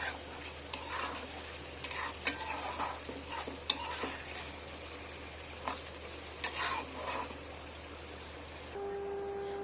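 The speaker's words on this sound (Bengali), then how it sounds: "এখনো হচ্ছে, আরো কষাতে হবে।" Food being sautéed and stirred in a pan while cooking a Bengali dish, with a soft steady sizzle under sharp intermittent scrapes and taps of a utensil against the pan, no talking.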